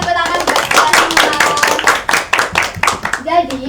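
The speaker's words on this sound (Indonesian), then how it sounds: "tepuk tangan buat kita semua" A classroom group claps hands together in a quick, lively burst of close, loud clapping that fades out in uneven claps, with voices of children or students mixed in.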